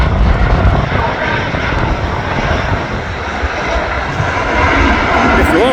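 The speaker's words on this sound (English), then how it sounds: "We've got a KLM. What a beautiful touchdown that was." A KLM jet airliner touching down on the runway at Manchester Airport, heard as a loud, steady engine roar that fills the whole stretch, with a faint rising tone near the end.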